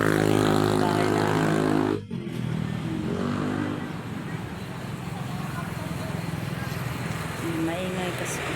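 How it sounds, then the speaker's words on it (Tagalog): Roadside traffic beside a rural house sounds as a loud engine drone that cuts off abruptly, followed by a steady, rougher engine rumble as a motorcycle passes nearby, with voices talking faintly underneath. "maingay kasi dito guys kasi nasa tabing kalsada ko"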